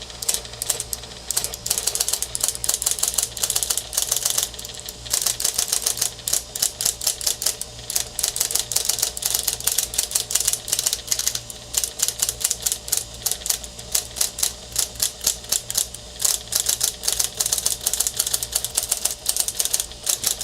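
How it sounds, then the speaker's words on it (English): A 1935 IBM Model 01 electric typewriter runs under external power with its motor humming while keys strike in a rapid, steady clatter of mechanical clacks and ratcheting, close and loud throughout with no voices. "So adding external power, turning the machine on."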